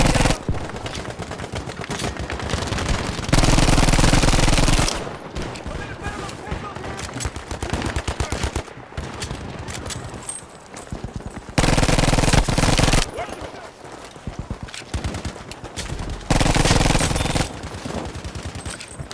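Automatic weapon fire in Battlefield V, a World War II shooter, with loud sustained machine-gun bursts alternating with shorter volleys and scattered shots, someone talking over the shooting at times.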